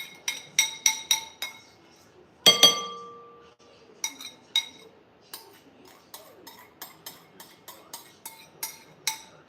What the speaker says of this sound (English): put it in the wet mixture and whisk all of this stuff together